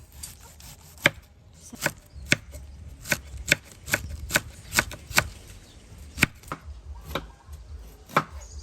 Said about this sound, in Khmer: នេះយើងចាប់ផ្ដើមហាន់បន្លែបងប្អូន